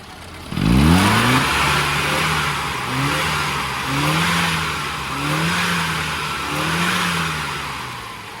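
A car on a country road accelerates hard after carburettor tuning, the engine rising in a loud rev then pulling through several rhythmic gear-by-gear surges, with no talk.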